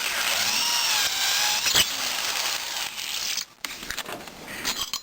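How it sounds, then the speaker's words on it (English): Reamer cutting through an oversized valve stem housing on a Fairbanks-Morse 1 1/2 horsepower engine: a steady, close, whirring and grinding mechanical drone that dips briefly near the end before resuming. "Now we'll run the reamer through"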